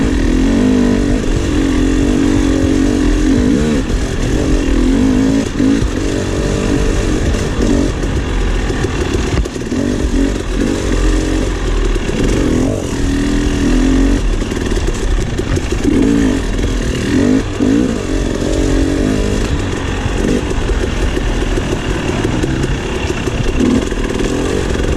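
A KTM 300 XC two-stroke dirt bike rides a trail at NATRA in West Point, Tennessee. Its engine snarls loud and close for the whole stretch, revving and easing steadily with a raspy buzz and no talk.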